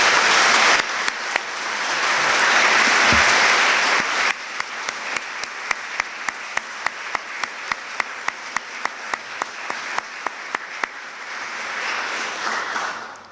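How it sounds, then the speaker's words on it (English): Graduates at a college graduation ceremony in Cork receive a final round of applause: a dense crowd ovation that thins after a few seconds into scattered, rhythmic individual claps before swelling again. "I'd like to invite everyone to give a final special round of applause to all our graduates."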